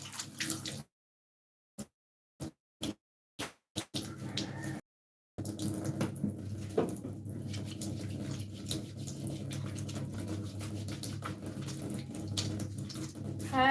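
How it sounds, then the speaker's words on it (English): Water runs from a tap while hands are washed before cooking over a coal pot. After a few short on-off bursts, a steady, close splashing flow continues. "Let's start and wash our hands first."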